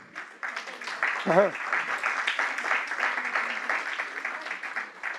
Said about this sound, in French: Oui, applaudissez-les.